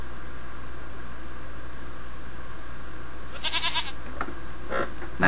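Goat bleating in the King's Quest video game, a couple of short bleats coming in late over a steady hiss of background game ambience.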